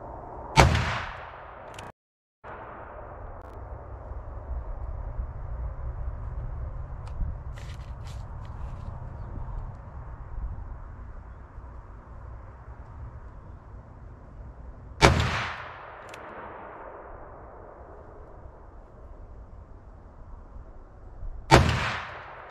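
Three sharp, loud revolver shots from a .41 Magnum Blackhawk with a Leupold scope, fired outdoors at spaced intervals while sighting in, each blast followed by a brief decaying echo over steady background noise.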